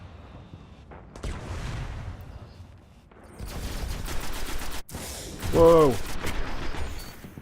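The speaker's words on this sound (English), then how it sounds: "Getting shot on the side." Gunfire in the sci-fi shooter Destiny during a Crucible PvP match, rapid bursts of shots and mechanical clatter rising and falling, with a player's exclamation over the fighting.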